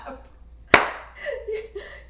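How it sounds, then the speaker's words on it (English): One sharp, close hand clap rings out in a quiet room, followed by brief laughter and voices talking. "That gets a clap."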